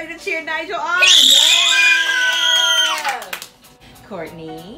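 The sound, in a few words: children cheering for Nigel at gaming party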